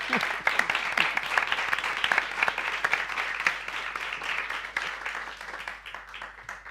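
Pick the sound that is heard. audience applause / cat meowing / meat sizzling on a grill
audience applause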